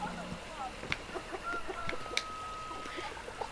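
Chickens cluck in Baldur's Gate II, short scattered clucks and squawks at moderate distance under steady game ambience, with a thin whistling tone drifting through the middle.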